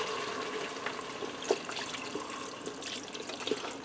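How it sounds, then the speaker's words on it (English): Beef broth, four cups' worth, pours into a pressure cooker over sautéed onions and beef, a steady close liquid splash and trickle running throughout with small clinks, no talking. "I'm going to add in 4 cups of beef broth."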